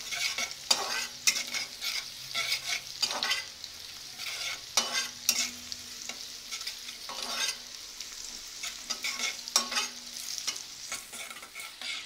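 Chicken 65 pieces deep frying in oil, a loud, bubbling sizzle that keeps going, with bursts of crackle and the scrape of a stirring spoon at intervals and no voices.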